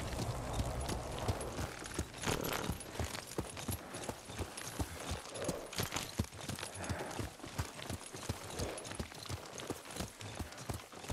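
Horse hooves clip-clop through a steady run of overlapping beats in the samurai game Ghost of Tsushima, fairly close and mixed with busy ambient game sound, with no talking.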